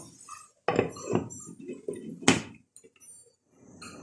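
A lid lands on a pan of prawns and zucchini cooking on the stove, with a few sharp metallic clinks and knocks, then quiet.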